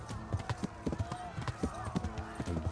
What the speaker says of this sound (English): Sounds like there's a horse behind me.